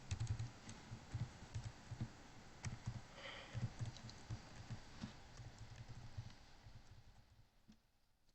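Username typed on a computer keyboard: quick, steady runs of small key clicks, faint and close, gradually thinning out toward the end.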